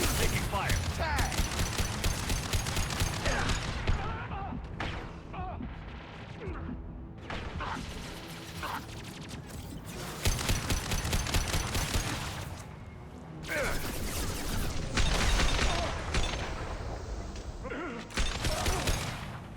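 Gunfire during a Mass Effect 2 firefight, dense bursts of shots and impacts running almost without pause through the stretch, loud and close, with brief lulls and voices mixed in.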